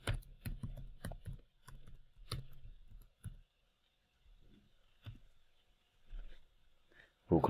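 A password typed on a computer keyboard during a Microsoft Entra Connect setup, heard as bursts of close, crisp key clicks with short pauses, ending in a louder final keystroke.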